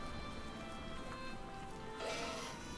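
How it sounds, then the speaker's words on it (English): Steady rain falls in the Pokémon Sword video game, a constant close hiss of drops that thickens slightly near the end, with no voices. "It's raining."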